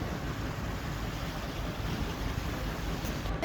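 Steady sea waves and wind on the beach at Karachi make a continuous broadband rush with no distinct breaks, loud and close to the microphone, with no one speaking.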